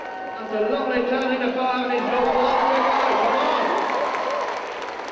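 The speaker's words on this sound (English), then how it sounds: "The crowd really getting into this today." An indoor crowd at the Belfast International Horse Show 2003 show jumping rises into sustained cheering and applause that swells and then eases, with a commentator talking over it.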